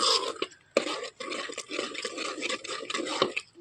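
A spoon stirs paneer masala into an onion-tomato curry in a pan, giving repeated wet scraping and clinking strokes in a quick, uneven rhythm, close and fairly clear.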